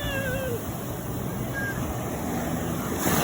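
Ocean waves forming a steady wash of surf and noise close by, with a few brief high squeaky calls near the start and a rising rush at the end.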